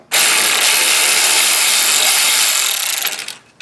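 A power tool whirs continuously for about three seconds while removing Rough Country strut bolts from a Nissan Titan, loud and close, then spins down to stop.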